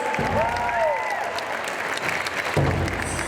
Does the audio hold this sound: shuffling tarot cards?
no